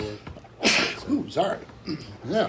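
One sharp sneeze bursts out close to the microphone, followed right away by someone speaking briefly.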